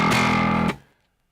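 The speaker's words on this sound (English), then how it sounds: "a classic kind of massive fuzz tone that's a bit nasty" Heavy, nasty fuzz distortion from a BitFuzzer plugin, low end filtered around 137, a loud sustained buzzing tone holding for about half a second, then cutting off and decaying into silence.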